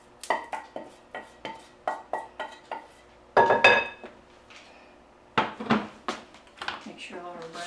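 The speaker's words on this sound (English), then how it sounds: "Our way is to put it in a bowl and put the sauce in there as well." Cooked spaghetti and sauce being tipped into a bowl: close clinks and scrapes of a utensil against the dish in a quick rhythmic run, then a heavier clatter, with a voice speaking between the sounds.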